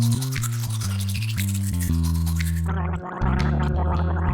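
A cartoon-style tooth-brushing effect, with rapid scrubbing and gargling over a bouncy musical backing that shifts partway through.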